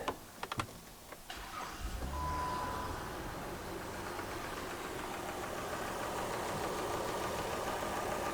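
A 2010 Chrysler Town & Country engine, running rich, idles with a steady, low rumbling hum, preceded by a few sharp clicks and knocks at the start.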